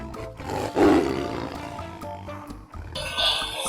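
A toy tiger's electronic roar plays close and loud, a growling burst that swells and fades, followed by a brief tinny electronic tone at the end.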